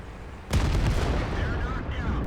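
A tank fires in the game World of Tanks, one sudden heavy boom that gives way to a rumbling, crackling aftermath.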